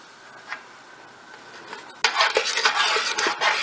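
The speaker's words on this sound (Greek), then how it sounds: "Θα περάσουμε μέσα από το σουρωτήρι το μείγμα μας και θα ανακατέψουμε απευθείας." Béchamel sauce being stirred in a pot on the stove: a quiet start, then from midway a louder run of utensil scrapes and clinks against the pot, close and irregular, with no voices.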